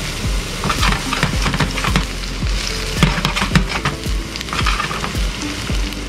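Onions frying in olive oil in a pan, a dense close crackling sizzle with repeated sharp stirring knocks and scrapes throughout, no voices.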